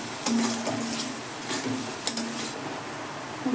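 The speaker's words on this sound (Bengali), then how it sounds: "পুরো গ্যাসটা লো করে মশলাগুলো কষছি" Spices frying slowly in a pan over low gas give a steady soft sizzle, with a few light clinks of a utensil against the pan.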